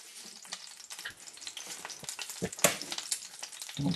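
Eggs frying in a pan make a close, crackling sizzle with irregular pops and spits, rising slightly in intensity, with no talking.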